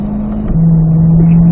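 C8 Corvette engine pulling hard on track after an upshift to fourth gear, a loud steady drone that dips briefly at the shift then holds a smooth rising note close to the microphone.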